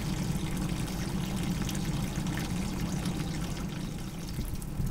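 Water gushes steadily out of a GM vehicle's radiator cooling system hoses during a back flush, a continuous close splashing pour with no talking over it.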